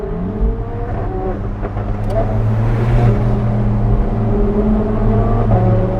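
An Alfa Romeo 4C sports car is driven along a road in Monaco. Its engine drones steadily and close throughout, with a slight rising rev and road noise underneath.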